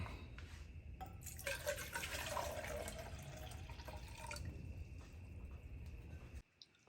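Tap water running into camping stove pots, a JetBoil Flash and a generic mini burner pot: a faucet stream splashing and filling for a few seconds, close and moderately loud, then shutting off.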